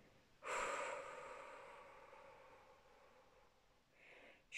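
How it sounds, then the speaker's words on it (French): A slow, breathy exhalation during a guided relaxation exercise, soft and close, swelling quickly and then fading over a few seconds, followed by a fainter second breath, with no talking over it. "J'expire."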